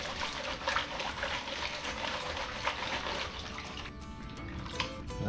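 Water and gravel swish and slosh in a gold pan being shaken and swirled during panning, a steady close wet rustle with a few brief splashy surges.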